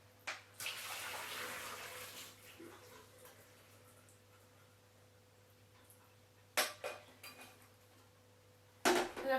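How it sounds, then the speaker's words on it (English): Boiled turnip is drained in a kitchen sink, with water pouring and splashing for about two seconds. Later come quieter clatters of a pan against the sink, a short burst of running water, and a low steady hum underneath. "So I'm going to drain it in the sink."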